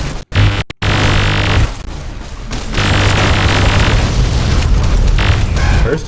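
Mini nuke explosion in modded Fallout New Vegas: a loud, booming blast after a couple of sharp pops, then a rumbling roar that keeps going to the end.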